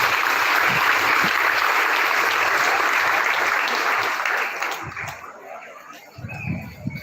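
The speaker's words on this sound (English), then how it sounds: "please give a round of applause for our speaker for this afternoon" A graduation ceremony crowd at Buenavista National High School applauds the afternoon speaker in a loud, dense, steady wash of clapping that thins and fades away near the end.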